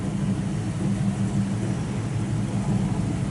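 Steady engine drone from a 1959 Chevrolet 3100 Apache resto-mod pickup with fuel injection cruising at freeway speed, a low rumbling hum with road noise that stays constant and close throughout.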